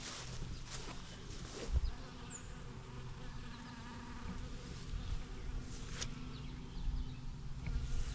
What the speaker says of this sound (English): the lavender here is just a buzz with the bees